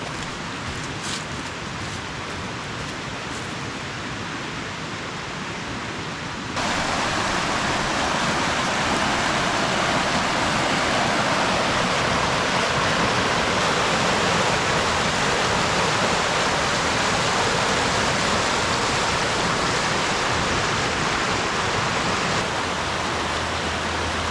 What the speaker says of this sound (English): Let's go check out Pickle Creek here.